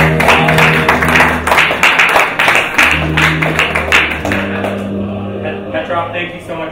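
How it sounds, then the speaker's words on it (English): Audience applause and clapping for a guest being introduced on a talk show, a dense patter of hands that swells and holds steady, heard under an ongoing voice and a low musical bed. "Big round of applause for the Russian PR secretary"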